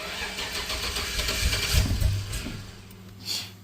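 A Box Chevy engine cranks and catches, then settles into a steady low idle with a brief rise in revs near the middle, heard up close with no talking.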